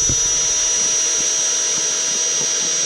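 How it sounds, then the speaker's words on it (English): A loud, steady power-drill whine runs continuously at close range while drilling mounting holes for a fish finder RAM mount, a high droning motor sound without pauses. "Drill 4 holes, get this ram mount mounted."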